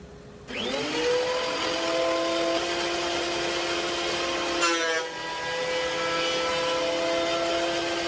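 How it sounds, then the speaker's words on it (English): A wood planer and a shop dust collector start up together and run loud and steady, with a strong whine and drone holding throughout and a short dip and change in pitch partway through. "it's going to get fairly noisy between the planer and my dust collector"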